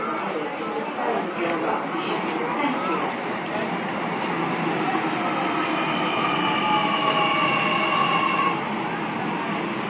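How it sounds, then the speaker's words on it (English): Four-car MacArthur train from the East Hills line arriving at Glenfield station platform, a steady mid-level rumble and hiss of wheels and motors with a faint high whine building as it approaches. "We're expecting the arrival of a MacArthur train from the East Hills line very shortly."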